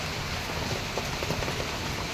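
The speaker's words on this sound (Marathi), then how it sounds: "भयानक पाऊस लागतोय थोडा पण कमी होताना दिसत नाही उलटा त्याचा जोर वाढतोय" Steady heavy rain pouring down, a dense continuous hiss with drops pattering on surfaces, fairly close and unbroken throughout.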